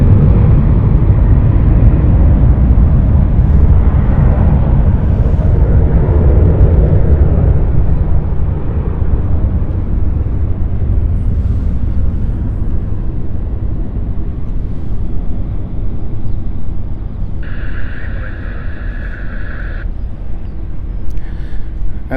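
An airplane departs London City Airport bound for Milan: a loud, deep engine roar that slowly fades as it climbs away, with a short tonal beep near the end.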